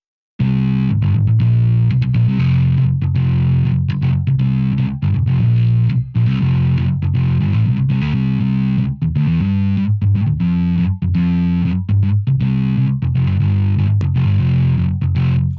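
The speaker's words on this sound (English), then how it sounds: "And of course you have some heavy distortion for all you metal guys out there" A heavily distorted bass from the Toontrack EZbass plugin plays a loud, continuous riff of gritty sustained notes with short rhythmic breaks, alone with no voices.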